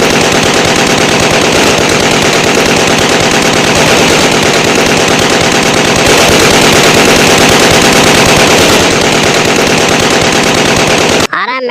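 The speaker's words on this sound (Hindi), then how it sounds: "मोनू कौवा एक पेड़ पर बैठकर बंटू शेर के ऊपर अपनी बंदूक से निशाना लगाता है और गोली चलाने लग जाता है।" Sustained rapid gunfire rattles loud and continuous for several seconds in a cartoon story where a crow fires his gun at a lion from a tree, then abruptly stops.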